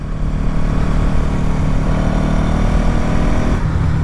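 A Bajaj Pulsar NS200 BS6 motorcycle engine runs steadily at a smooth, refined idle, close and loud with a constant droning hum and no speech.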